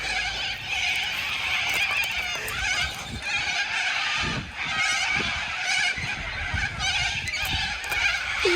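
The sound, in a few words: birds honking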